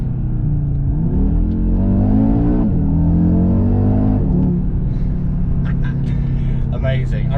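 A 2.5-litre five-cylinder engine in an Audi RSQ3 Sportback revs and accelerates with a steady, loud mid-range drone that rises in pitch, with speech over it.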